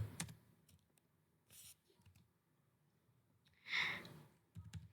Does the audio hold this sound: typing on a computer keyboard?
yes